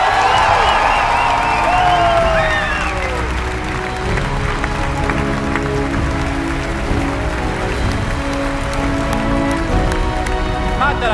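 Audience at the Bethesda E3 conference roars with sustained applause and cheering, a dense crowd wash filling the hall while an amplified voice speaks over it at the start.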